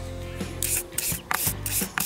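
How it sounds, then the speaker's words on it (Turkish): A toothbrush scrubs the blades of a car heater fan motor in quick repeated strokes, a close dry bristly rasp with brief pauses between passes and no voices. "o zaman bir diş fırçası kullanabilirsiniz."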